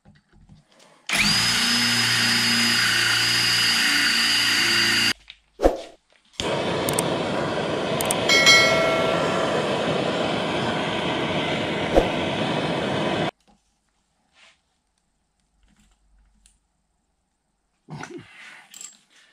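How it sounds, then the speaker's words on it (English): A power drill bores deeper into a steel socket on a Bridgeport milling vise feed nut, with a long steady whine, a short pause, then a second extended run with a screw extractor before quiet. "I grabbed a drill bit to go ahead and make that socket a little bit deeper"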